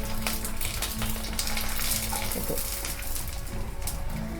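Sago fryums crackle and sizzle in hot oil while a spoon turns them, a dense, busy frying hiss with scattered pops and faint scraping, close and loud, with no talking.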